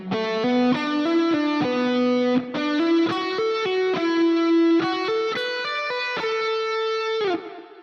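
A distorted electric guitar plays a pentatonic lick, with six-note groups climbing steadily upward in a quick even rhythm, close and clear with no talking, ending on a held note.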